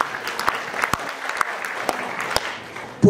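Scattered applause at a Golkar party chairman's inauguration ceremony in Teluk Wondama, Papua; thin, uneven clapping with a few sharp, louder individual claps standing out over a low room murmur.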